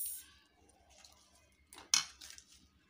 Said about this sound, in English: When you use scissors, it's much easier.